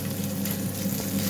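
Eggs and bacon frying in a pan for breakfast, a steady dense sizzle and crackle that stays close and fairly loud for the whole stretch, with no voices over it.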